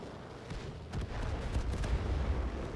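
In the World of Tanks tank game, a string of muffled blasts and thuds sits in a dense, rumbling battle din, moderately loud and fairly close, with no speech.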